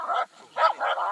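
A hunting dog out on a den hunt gives two loud, close barks, the second drawn out into a whining yelp, with a short gap between them.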